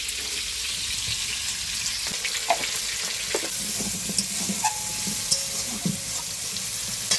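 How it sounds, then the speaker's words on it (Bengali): Spices tempering in hot oil for a Bengali green chilli curry with katla fish crackle in a steady sizzle, close and continuous, with occasional clinks and stirring scrapes against the pan. "দেখো বন্ধুরা সমরানো হচ্ছে"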